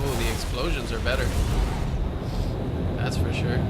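Deep rumbling booms and bursts from space combat in Star Citizen roll through, with someone talking over the blasts.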